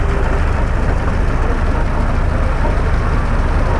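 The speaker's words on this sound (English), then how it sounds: "the engine revs have gone up slightly, so that's perfect" Hotchkiss-built Willys army jeep engine idling after a carburettor adjustment, a steady, loud, low rumble that holds an even pitch throughout with no voices.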